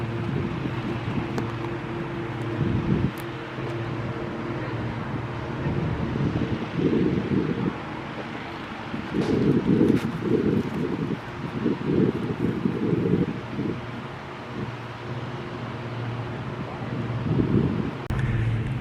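Wind gusts outdoors in open country during a disc golf outing, a steady rushing roar with rumbling microphone buffeting that swells in several surges, with no talk.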